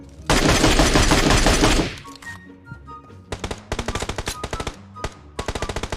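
Gunfire crackles through a PUBG Mobile match, a long dense automatic burst up close followed by choppy rapid volleys and separate short strings of shots, no talking.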